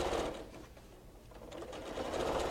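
A sewing machine runs steadily, stitching rows of flannel placed right sides together for a baby bundle; the motor hum stays close and continuous, dipping slightly midway before picking up again, with no talking.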